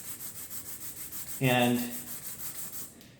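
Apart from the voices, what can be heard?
sanding a Kettlewell chromatic harmonica part flat by hand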